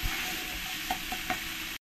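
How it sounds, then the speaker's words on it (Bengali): A spoon stirs turmeric and Kashmiri chili powder in a hot pan of oil, giving a steady sizzle with a few soft scraping clicks, then stopping abruptly. "1 চামচ হলুদ আর 1 চামচ শুকনো লঙ্কার গুঁড়ো, এটা কাশ্মীরি লঙ্কার গুঁড়ো, দিয়ে ভালো করে আরেকবার এরকম করে আমি মিশিয়ে নেব।"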